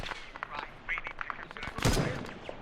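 Arma 3 gunfire rattles in scattered bursts and single shots at varying distances, building to a loud nearby blast near the end, while voices talk over it.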